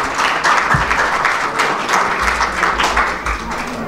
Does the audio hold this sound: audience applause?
yes